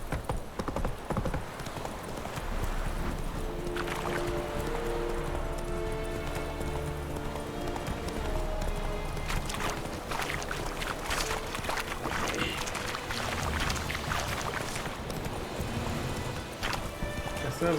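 A horse galloping in the Witcher 3 video game, with steady clip-clop hoofbeats running continuously under game music and ambient sound, some speech in the background.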